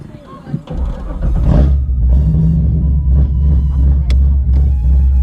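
A 500 hp cammed C6 Corvette V8 bursts into life with a loud, deep rumble that settles into a rough, throaty idle with small revs, close by.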